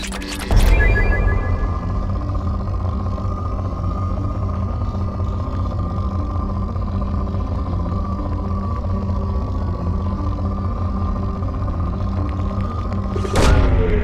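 A probe launching in the game Mass Effect 2: a heavy boom opens into a loud, sustained, droning mechanical hum that holds steady, then a sharp whooshing burst rises near the end.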